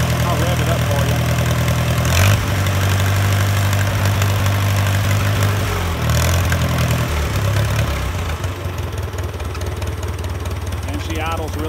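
An older motor that has sat unused idles, then is revved up from half throttle, loud and close, with the pitch climbing and falling back before settling toward a smooth idle.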